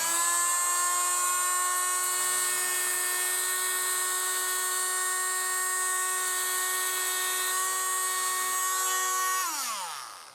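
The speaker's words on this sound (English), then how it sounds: "with the multi-tool and the bit, what you're going to do is grind out this grout around the perimeter of the broken tile like this." Oscillating multi-tool with a bit grinding out grout around the edge of a broken ceramic tile, a loud, steady high-pitched whine held for about nine seconds before winding down at the end.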